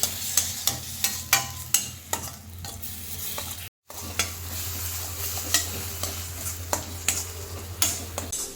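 Paneer masala puree cooks in a pan with onions and spices, a steady close sizzle broken by repeated spoon scrapes and stirring clinks against the pan, with a brief dropout midway.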